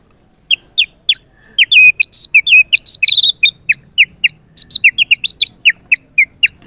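A water whistle is blown to imitate a fantail's call, giving a loud, close run of sharp, high chirps and quick trills in irregular bursts, with no voice.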